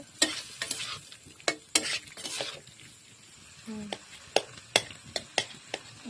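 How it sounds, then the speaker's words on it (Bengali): Potato and tomato curry stirred in a pan, sharp spoon scrapes and knocks arriving in irregular bursts over a low simmering sizzle, with a brief voice in the background. "ভালো করে আবার নেড়ে নেব।"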